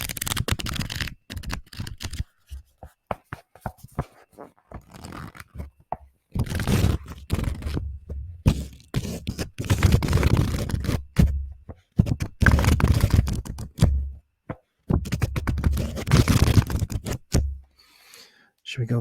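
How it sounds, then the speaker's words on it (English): Pages of a book flipped and turned close up in a quiet room, crisp papery rustles and soft slaps coming in irregular bursts separated by short pauses. "Here's a little bit more page turning."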